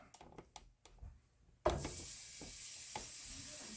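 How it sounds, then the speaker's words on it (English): A sudden burst of sizzling starts partway through, a steady close hiss of braciole frying in a hot cast iron pan after a few soft knocks and taps. "You can hear that little sizzle there."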